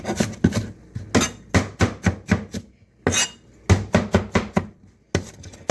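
Purple and yellow onions are chopped with a meat cleaver on a board in rapid rhythmic thuds, loud and close, with a brief pause between runs of strikes, and no voice.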